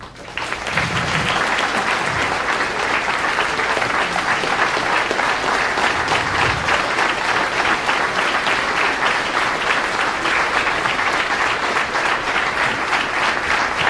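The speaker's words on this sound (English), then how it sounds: "please help me give him a Coastal Alabama round of applause" An audience at a Coastal Alabama Chamber event in Gulf Shores claps for Governor Bentley, a long, sustained round of loud applause from a large crowd that stays even throughout.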